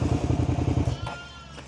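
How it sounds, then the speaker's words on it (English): Sheep bleating beside a rural road on a motorcycle ride from Newcastle to St Mary's Loch, a wavering nasal call over a steady engine rumble, fairly close, with no talk. "Hello, sheep."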